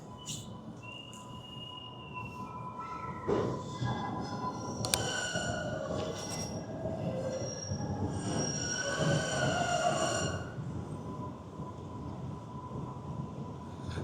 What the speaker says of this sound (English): the metro system here in Boston